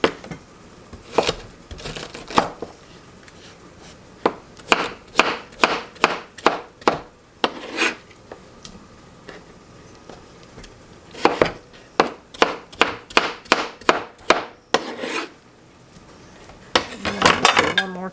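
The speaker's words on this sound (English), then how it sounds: "this is a Rada knife, and it's a tomato knife. It just works the best for tomatoes" A Rada tomato knife cuts through a tomato with crisp sawing slices in quick bursts. Short runs of rapid strokes are separated by brief pauses, and faint kitchen clatter sits in the background.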